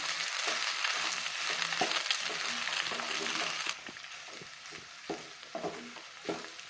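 Macaroni with vegetables, soy sauce and tomato ketchup is stirred in a pan, with a loud frying hiss at first that drops away, followed by repeated close scrapes and taps of the spoon, and no voices.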